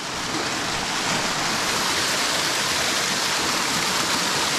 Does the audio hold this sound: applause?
no